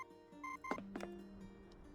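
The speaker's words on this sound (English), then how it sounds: "Beep, beep, beep, beep. The cheerful tone makes Matilda jolt upright" Short electronic beeps from a portable communicator, a few bright tones in quick succession over a quiet background with a couple of soft thunks.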